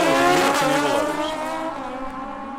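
Two drag racing motorcycles, a green and black Howie and a Kawasaki, launch and accelerate with a loud, high-pitched engine scream that fades slightly as they pull away.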